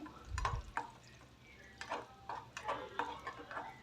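Light crackling and sizzling as cashews, raisins and coconut pieces fry in ghee, with a few soft clicks and stirring taps from a utensil nearby.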